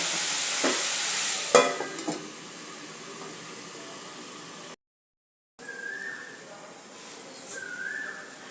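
Sizzling and stirring of cauliflower, potato and capsicum pulao vegetables in a pot, with a few clinks of a utensil against metal, a short silent gap, then soft frying continues.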